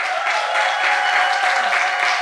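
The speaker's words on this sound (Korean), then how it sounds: "우리 찬양팀 너무 잘했다고 우리가 할 수 있는 최고의 뜨거운 박수를 하겠습니다" A church congregation applauds the worship team in a loud, continuous roar of many hands clapping, steady and even throughout with no talk on top.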